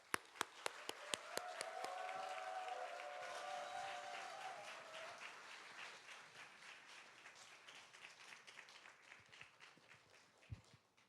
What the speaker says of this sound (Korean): 이제 뜨거운 박수로 김문정 사모를 맞이하겠습니다.